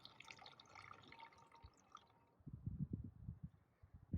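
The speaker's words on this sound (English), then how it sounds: "you need to pour a half a cup of hydrogen peroxide into your bottle" Hydrogen peroxide poured into a bottle for an elephant toothpaste experiment makes a quiet trickle, then turns into closer, wetter gurgling splashes and drips in the second half.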